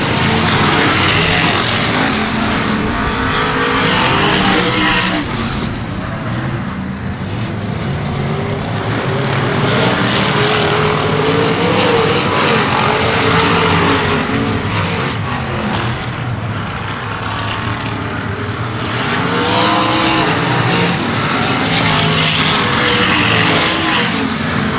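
Race cars circle a short oval at Cotton Bowl Speedway in heavy lapping traffic, a continuous loud roar of several engines that swells and eases as the pack passes, with no voices over it.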